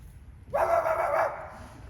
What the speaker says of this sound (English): I fancy I hear a dog barking